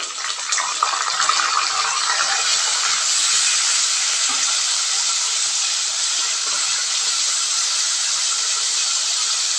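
Green chilli and tomato pieces hitting hot oil in a pan, a loud, dense, continuous hiss close by that holds steady from start to finish with no voices.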